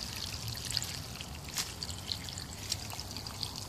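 A steady hiss of running water, like a tap flowing, with occasional small splashes and clinks throughout.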